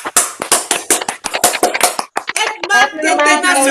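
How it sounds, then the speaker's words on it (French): Audience at a French-language Edmark business meeting clapping in quick rhythmic bursts, loud and close, sharp claps in a patterned cadence before breaking into looser cheering and voices. "donnons-lui une acclamation bombastique, spinatique, à la manière des marques internationales"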